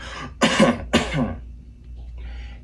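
Two sharp, close coughs in quick succession, followed by a softer breathy exhale.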